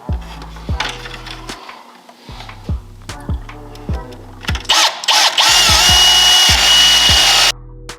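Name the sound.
drilling a hole beside the grill bolt hole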